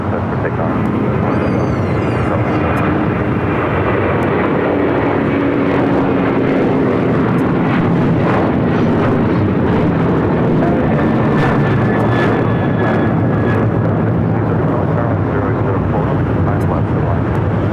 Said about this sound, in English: 737-900ER, now rolling down 25 right